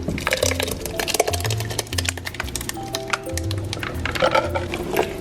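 Ground tomatoes are poured into a pot of minestrone soup, giving wet, sloppy splashes and glugs mixed with light clinks against the pot, close and continuous.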